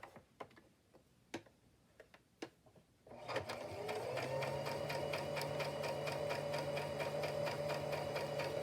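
Sewing machine stitching zigzag along a fabric edge, starting after a few light clicks and handling taps, then running in a steady fast rhythmic whir with ticking, close and fairly quiet.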